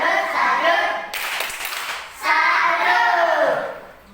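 Children in a classroom doing a rhythmic clapping chant, short bursts of group claps mixed with their chanted voices, a sharp clattering flurry in the middle.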